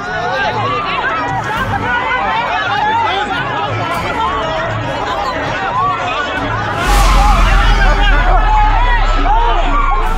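A dense crowd at a religious katha gathering in Meerut shouts and cries out continuously during a stampede, loud and close, with a heavy low rumble joining partway through.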